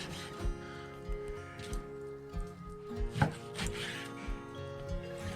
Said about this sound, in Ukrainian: Не дрібним ріжемо нормальними шматками.